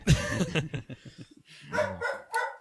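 A dog barks and yips in a quick, excited run of loud, close barks that break into whining yelps, with a few more barks at the end.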